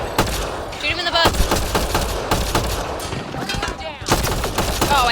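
Rapid bursts of gunfire from a Mass Effect: Andromeda combat sequence, dense and loud volleys repeating throughout with brief gaps, mixed with game effects and a player talking over the action.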